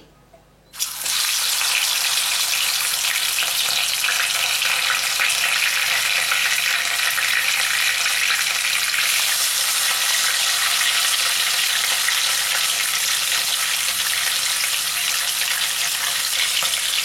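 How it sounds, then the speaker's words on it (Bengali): Large pieces of fresh Bhetki fish, rubbed with salt and turmeric, hit hot oil with a sudden loud sizzle that then holds as a steady, even hiss of frying close by. "এগুলোকে এবার ভেজে নেব"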